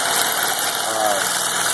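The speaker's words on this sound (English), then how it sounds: "Air engine RPM 1200, which is assumed to be most efficient." A compressed-air engine on a benchtop hybrid drivetrain runs with no load at about 1200 RPM, giving a steady, loud, close mechanical whir and hiss with no talk over it.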